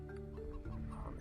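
Chickens in the video game Stonehearth, a few soft clucks over a quiet, harmonic in-game background, faint and without talk.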